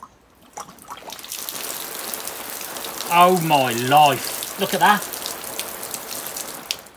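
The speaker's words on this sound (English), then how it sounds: "I can't believe that water flow, because that water is coming up over my head." Water gushes steadily from the tap of a self-watering system in a garden, a continuous splashing rush that runs throughout, with someone speaking over it partway through.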